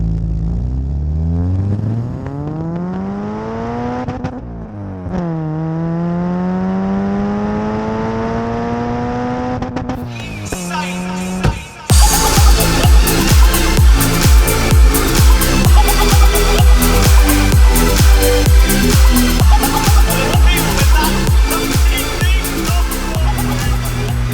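A Citroen Saxo engine revs up in long rising and falling sweeps, then from midway bounces hard and loud on the rev limiter in rapid, stuttering pulses that continue steadily to the end.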